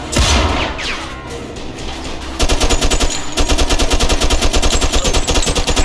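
Loud, rapid automatic gunfire from the video game Mafia 2 rattles in a steady stream, preceded by scattered shots and blasts, close and continuous with no pauses.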